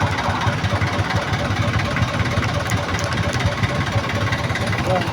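Motorcycle engines idle and rumble steadily in San Juan, Manila street traffic, a dense, continuous mid-range drone with talk mixed into the din.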